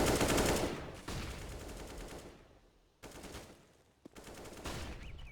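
Rapid automatic gunfire sprays in a Counter-Strike esports match, loud bursts of shots in two main strings separated by a brief pause, with a sharp single crack near the end.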